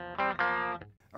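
Fender Professional II Telecaster played dry through a cabinet simulator, a short distorted chord rung out twice in quick succession with crisp, bright harmonics, then cut off, close and clear.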